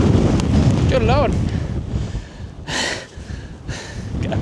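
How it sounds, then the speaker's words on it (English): Strong gusts of wind buffet an outdoor microphone on a walk around Rochester, a continuous roaring rumble with two louder rushing bursts near the end, while someone talks and exclaims over it. "Got a big gust."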